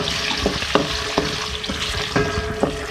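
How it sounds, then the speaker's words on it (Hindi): About 150 grams of okra (bhindi) sizzles in hot oil in a pan, with a steady frying hiss broken by sharp stirring clinks and scrapes at irregular intervals. Close and alone, with no voices. "ऑयल में मैं यहाँ पे 150 ग्राम भिंडी ऐड कर रही हूँ। इसको डाल के फ्राई करेंगे।"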